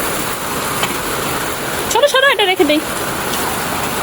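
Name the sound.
rain falling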